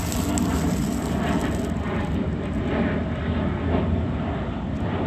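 A fixed-wing airplane flies low overhead just after takeoff near a fire department, a loud steady jet roar that fills the whole stretch without letting up.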